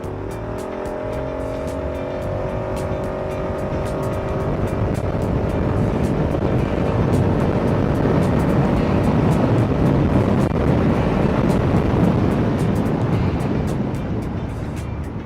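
A KYMCO KRV 180 motorcycle accelerates hard, its engine note climbing in rising harmonics before settling into a loud, sustained roar with wind buffeting, close to the rider and without talk.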